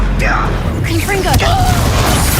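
A Confringo spell blast in Hogwarts Legacy, a short booming burst with a crackling whoosh, arriving just after a voice calls out, over steady background ambience.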